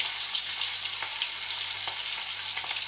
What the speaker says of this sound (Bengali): তেল গরম হয়ে গেছে, এখন এক এক করে মাছগুলো দিয়ে দেবো।